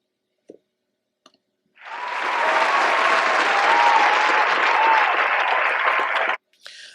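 Applause sound effect of a crowd clapping, starting abruptly after a few faint clicks, holding steady and loud for about four and a half seconds, then cutting off sharply.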